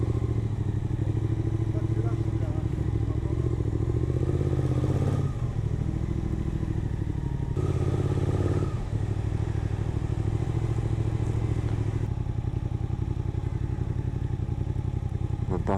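A Suzuki GSX 8S motorcycle ridden on a winding mountain road to Cilaos with its steady engine drone close and loud, shifting in pitch as it goes and mixed with rushing wind, with a voice speaking over it.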